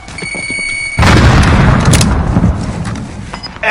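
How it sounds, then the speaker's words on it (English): A grenade explodes in a battle-royale shooter game, a loud sudden boom that bursts in after a brief buildup and rolls on with heavy low rumble and scattered crackle for several seconds. "Grenade out!"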